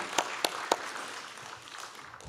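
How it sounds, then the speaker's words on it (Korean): A church congregation at a Wednesday worship service claps in praise, opening with a few sharp, distinct claps before settling into a softer, scattered applause that thins out toward the end. "하나님께 영광의 박수 드리겠습니다"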